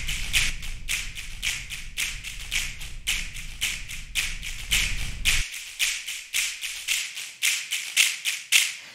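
Crisp finger snaps from the Le Snappet finger snap machine plugin, a steady run of sharp close snaps over a low rumbling bed that cuts out partway, leaving dry snaps alone.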